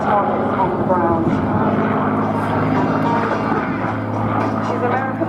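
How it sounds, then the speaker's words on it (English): A P-51 Mustang, an American World War II long-range single-seat propeller fighter, flies at a seaside airshow at Clacton-on-Sea, its piston engine drone loud and sustained throughout. "The P51 Mustang was the most versatile aircraft, capable of attacking bombers on their long range"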